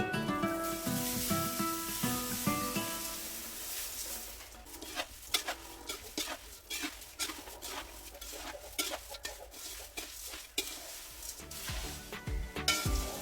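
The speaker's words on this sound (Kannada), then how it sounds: "ಹಾಗಾಗಿ ಹಗುರಕ್ಕೆ ಮಿಕ್ಸ್ ಮಾಡ್ಕೊಳ್ತಾ ಇದ್ದೀನಿ" Crispy flattened rice (avalakki/poha) tossed with chili powder in a pan, gently stirred: a run of light scraping clicks and dry rustles of utensil against metal, steady and close, with no voices.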